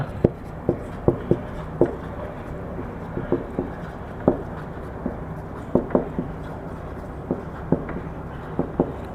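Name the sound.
writing math working during a lesson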